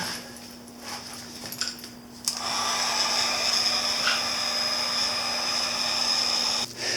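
A heat gun switches on with a click and settles into a steady, close blowing whir that holds evenly, then cuts off near the end.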